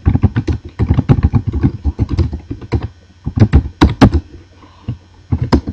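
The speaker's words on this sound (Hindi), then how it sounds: "मैं यहाँ छोटा सा एक टेक्स्ट टाइप करता हूँ, एक लाइन का" Keys clatter on a computer keyboard as a short line of text is typed, with bursts of close, crisp keystrokes, a brief pause midway, then more quick tapping.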